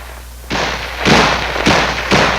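An M16A1 rifle fires four loud, sharp reports at roughly half-second intervals, each a broad blast that decays into the next, with no voices.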